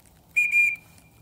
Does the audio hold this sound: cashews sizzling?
no